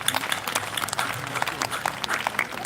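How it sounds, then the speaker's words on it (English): A warm round of audience applause at an India Day 2022 gathering, many hands clapping steadily and fairly close for a few seconds with no speech over it. "maybe a warm round of applause for him and his staff"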